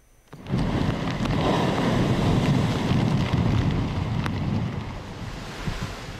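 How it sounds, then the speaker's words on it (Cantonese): Typhoon Mangkhut batters the Hang Fa Chuen seafront in Hong Kong's eastern island, with a loud, continuous roar of gale wind and crashing surf that swells in abruptly and then eases slightly toward the end. "喺山竹吹襲下出現幾層樓高嘅巨浪"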